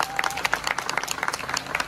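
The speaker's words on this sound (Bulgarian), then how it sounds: "Може ли аплодисменти силни за него?" A crowd claps at a traditional village festival fair in Poroyno, brisk scattered applause from many hands, moderately loud and continuous with a slightly uneven rhythm.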